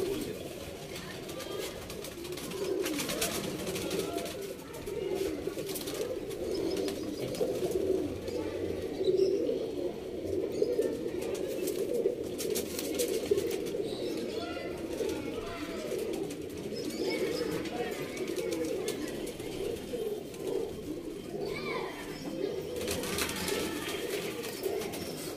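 Pigeons cooing steadily in a loft, a dense continuous chorus of low coos with occasional wing flaps and faint chirps, with someone speaking Bengali now and then.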